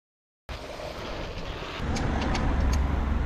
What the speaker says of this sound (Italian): Comunque non capisco perché fa così la mia bici.